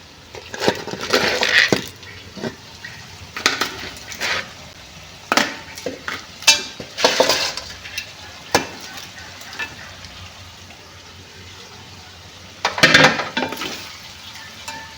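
Crab pieces stirred and fried with softened tomatoes in a pan for South Indian crab biryani, with loud bursts of sizzling and scraping stir strokes between quieter simmering stretches, no talking.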